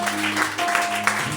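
A church congregation claps in a brief, steady burst of applause at a night worship gathering, with faint sustained tones underneath.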